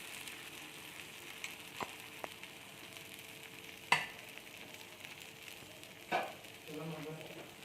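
Coconut dosa batter being spread on a hot pan, a low steady sizzle with a few sharp clinks and scrapes of the ladle against the pan.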